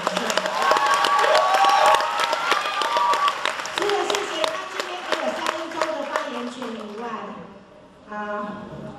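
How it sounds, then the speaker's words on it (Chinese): Guests at a Taipei double wedding banquet applaud together in a dense, steady wash of clapping mixed with crowd voices, dipping briefly just before the end and then rising again. "请大家给他鼓掌"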